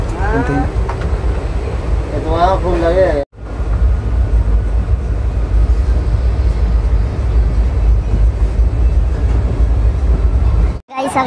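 Steady loud rumble of a moving train fills the cabin, continuous and close, with a person speaking over it at the start.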